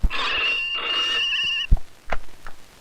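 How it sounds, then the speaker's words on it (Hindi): A telephone rings with a bright electronic trill repeating for about a second and a half in a Hindi action film scene, then stops, followed by a few short knocks and thumps. "फोन उठा लो।"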